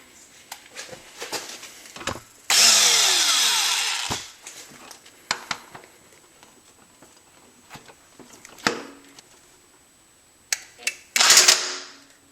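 An impact wrench fitted with a 19mm socket works a bolt on a Honda Prelude. It gives a long loud buzzing run of about two seconds, several short bursts and clicks, and a final loud burst near the end.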